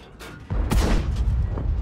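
A tank cannon shot in a Combat Aces game strikes the lower plate of a T-54 Mod 1 with a brief crack, followed by a heavy, rumbling blast that lingers for over a second.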